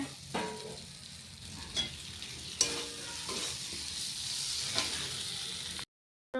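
Spices for an egg curry fry with melted onion in a pan, making a continuous close sizzle with a few stirring clinks before a brief drop to silence.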